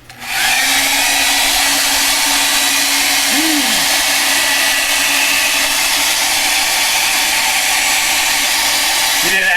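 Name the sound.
heat gun drying art journal page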